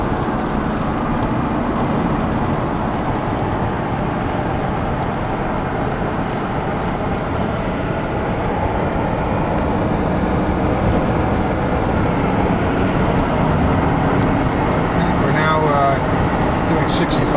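A clutchless electric DeLorean cruises at highway speed with steady road and drivetrain noise, a continuous loud rumble with faint clicks near the end.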